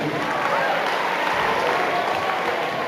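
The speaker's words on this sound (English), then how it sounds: "give yourself a round of applause over here" An audience at a Grade 9 talk applauds steadily for a few seconds, a dense wash of clapping at constant loudness.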